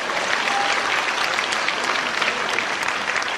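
Sustained applause from an audience at a Christian leaders' forum, a dense, even wash of many hands clapping together without a break, fairly loud and close.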